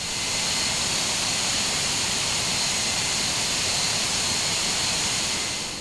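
Jet engines of a Just Flight DC-8 airliner in the FSX flight simulator, a steady, loud broadband roar with a high whining hiss held evenly throughout, no voices.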